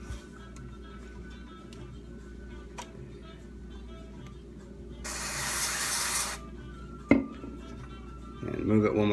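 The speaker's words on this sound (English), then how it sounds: "So I'm going to spray it one more time." A single loud hiss of spray lasting over a second, as cleaner goes into a Dared VP-20 amplifier volume pot, sits among quiet clicks and taps, with a knock and rustle after.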